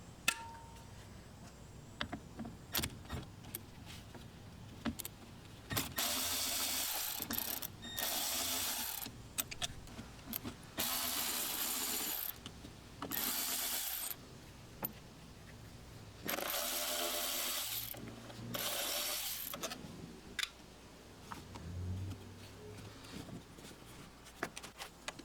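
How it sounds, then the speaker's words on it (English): A hand ratchet works loose 10mm bolts on a Chevrolet Cruze wiper motor, with quiet bursts of rapid clicking spread across the clip between pauses and faint handling noises, fairly close and fairly soft. "we're going to remove four 10mm bolts"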